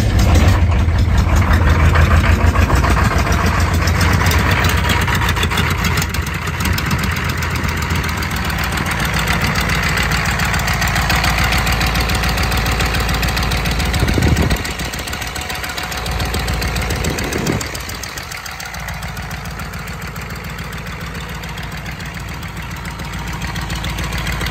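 A GM 6.5L diesel engine idles loudly and steadily with its intake removed, a rough, knocking mid-low drone that runs throughout without speech.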